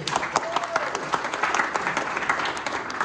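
A seated audience at a sales training session claps in sustained, fairly dense applause, with individual claps standing out through the steady wash of hands and some talking mixed in.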